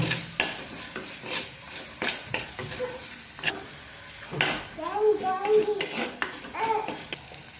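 Spices for rasam, with a quarter spoon of turmeric powder, stirred in a pan: repeated scraping, clinking strokes with a soft sizzle underneath, moderately close, with faint voices in the background.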